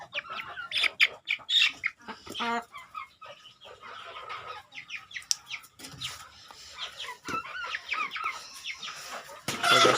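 Farm chickens clucking and squawking in bursts while their feed is being readied, several birds close by calling over one another with brief gaps.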